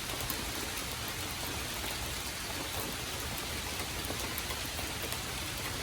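Heavy rain pours down outdoors in a backyard, a steady dense hiss with no pauses and no voices.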